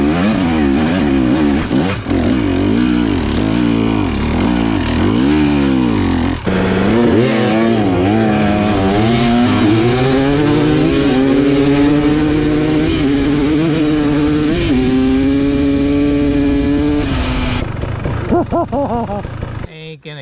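A motorcycle rips along a single track trail, its engine loud and close, revving up and down in repeated surges as gears change, the pitch climbing through long pulls before backing off near the end.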